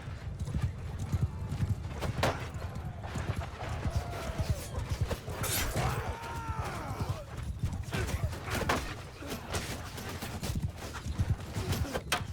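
Horses in the video game Mount & Blade II: Bannerlord clop steadily along at close range, with a few whinnies rising over the rhythmic hoofbeats.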